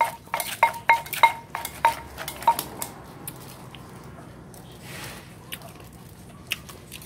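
Lao-style papaya salad with crab being pounded in a mortar: a quick run of sharp, bright knocks and clinks over about three seconds, then a quieter background with occasional faint taps.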